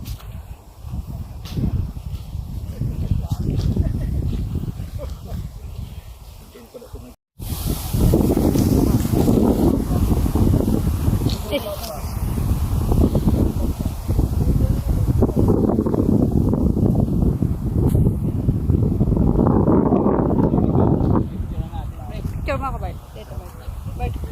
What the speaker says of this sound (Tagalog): Mahangin din.